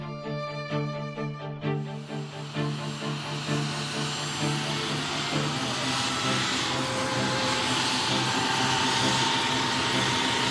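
Russian military helicopters perform a flying display over Hanoi, a loud continuous rotor and turbine roar with pulsing blade chop at first that settles into a steady, close drone.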